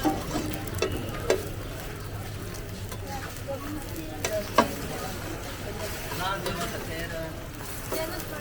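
A fried egg sizzles in a pan at a street food stall in Attock City, Pakistan, giving a steady crackling fry with occasional clinks of utensils while people talk nearby.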